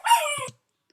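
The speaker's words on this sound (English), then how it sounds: "we heard a cry of a puppy in pain." A puppy cries out in pain at night: one high, strained whimpering yelp, close and loud, lasting about half a second before silence.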